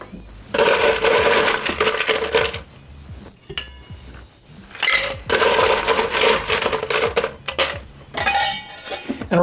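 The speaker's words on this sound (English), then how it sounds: "So I'm gonna throw some ice in here." Ice rattling in a cocktail shaker while a grilled pineapple vodka sour is made: three loud bursts of clattering, jangling ice separated by brief quieter gaps, close by and with no voices.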